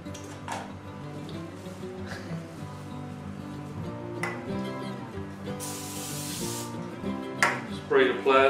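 A short hissing burst of spray onto plastic wrap covering bread dough in a loaf pan, about a second long, stands out over background music, followed by crinkling of plastic.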